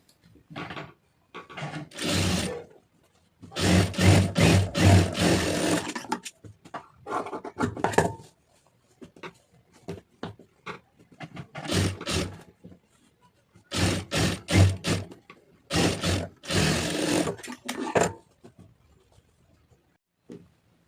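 A sewing machine stitches a blouse lining in a series of short, buzzing runs separated by quiet pauses, close and fairly soft, with no talking.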